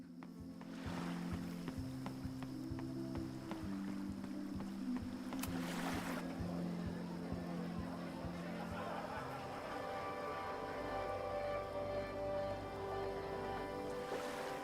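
A boat rides on water in the video game Life is Strange: Reunion: a steady low droning rumble with washing water that runs continuously at even loudness, and a faint chime-like tone later on.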